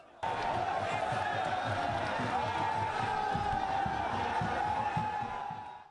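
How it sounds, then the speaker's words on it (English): A large crowd of APC party supporters at a political rally chants slogans in a steady, dense roar, continuous and fairly distant throughout. "The crowd was in a good mood and chanted slogans freely."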